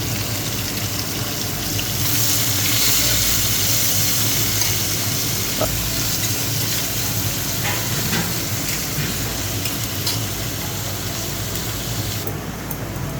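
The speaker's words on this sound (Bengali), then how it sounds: "এখন লাল লাল করে ভেজে নেব।" Chopped onions frying in a pan with cardamom pods and bay leaves for a chital fish kalia, giving a steady, fairly loud sizzle with a faint hiss that continues throughout.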